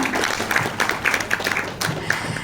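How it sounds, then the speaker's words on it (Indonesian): Applause from a crowd at a corporate media gathering, sharp individual claps standing out against a dense, close, fairly loud background of murmur. "Boleh saya minta tepuk tangan sekali lagi buat Anda semua?"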